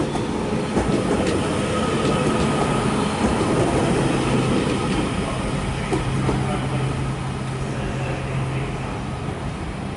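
A train at Manchester Piccadilly station, a steady loud rumble of rolling stock with faint wheel squeal and rail clatter running throughout, close by and without speech.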